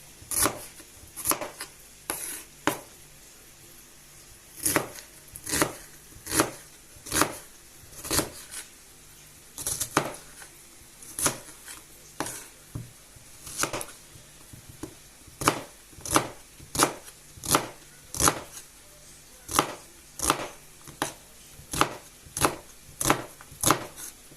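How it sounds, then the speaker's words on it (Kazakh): Onions being chopped with a knife on a board in a home kitchen while meat fries nearby, a steady run of sharp, evenly spaced chops up close with brief pauses between bursts. "Осылай пиязымызды турап дайындап қоямыз"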